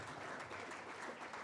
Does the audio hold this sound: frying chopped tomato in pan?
no